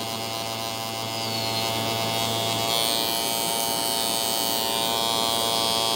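A pen-style tattoo machine buzzes steadily while tattooing Roman numerals, a fine, even electric whir heard close up that grows slightly louder and rougher partway through, with no talking.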